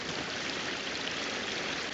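A river flowing in the video game A Plague Tale: Requiem, a steady broadband rush of water, even and unbroken, heard alone without voices.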